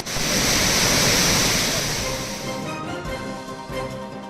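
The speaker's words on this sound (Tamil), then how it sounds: "ஒகேனக்கல் அருவிகளில் நீர் ஆர்ப்பரித்து கொட்டுகிறது" Water roaring down the Hogenakkal waterfalls, a loud, steady broadband rush that eases slightly toward the end, heard alone without talk.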